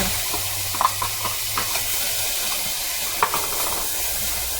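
Chopped cilantro roasting with spices in a pan for a vegetarian samosa filling, giving a steady close sizzle and hiss with a few soft stirring clicks and scrapes.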